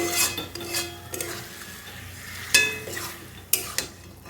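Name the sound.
marinated chicken being sautéed in pan on low flame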